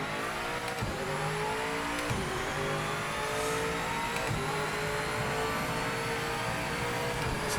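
A BMW GTE race car in a racing video game revs hard at Spa-Francorchamps, with a loud, continuous engine drone and layered harmonic whine that climbs and holds steadily throughout, with no talking.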